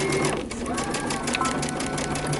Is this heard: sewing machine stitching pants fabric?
yes